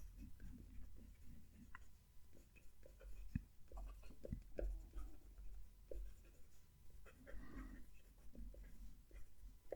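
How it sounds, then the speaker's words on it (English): A charcoal Lamy Safari fountain pen filled with grey ink writes a sentence on paper, its nib giving soft, close, scratchy strokes and small ticks in a quiet room. "So that's the writing there with the Lamy Safari."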